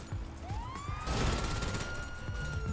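Police car siren in GTA Online, a rising wail that sweeps up and holds, loud and close over rumbling game noise and engine sound.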